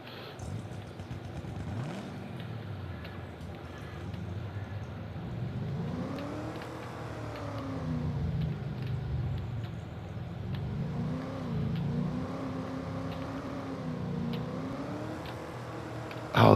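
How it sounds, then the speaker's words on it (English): A car engine in the farming game Farming Simulator 22 revs up and down in long rising and falling sweeps, steady and close, with no talk over it. "Oh, this car sounds so good."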